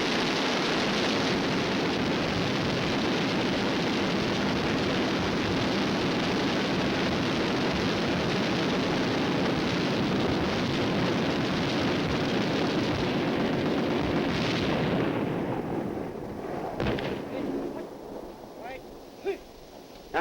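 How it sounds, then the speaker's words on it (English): Several tanks fire their 90mm main guns and machine guns together, a dense, loud, continuous roar of gunfire that rumbles for about fifteen seconds before abruptly dying away into scattered fading echoes. "those tanks only fired 13 seconds"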